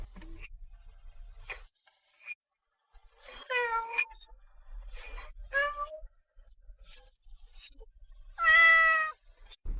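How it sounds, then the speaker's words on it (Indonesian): A stray cat outside in heavy rain gives a series of clear, close meows, short cries spaced apart with a longer, louder wail near the end, and faint ticking in the background. "Hujan banget, ada kucing liar di luar."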